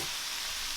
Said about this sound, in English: just get a nice little saute on our cabbage and bean sprouts